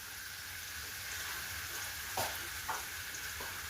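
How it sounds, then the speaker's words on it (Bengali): Onion and garlic fry on low heat in a pan, giving a steady, even sizzling hiss, with a couple of soft stirring knocks near the end. "অল্প আঁচে ভেজে নেব"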